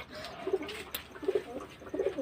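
Pigeons coo in three low, throaty bursts about a second apart, fairly close, over a quiet background with no talk.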